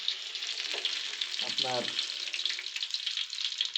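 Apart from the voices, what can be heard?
frying giant river prawns in mustard oil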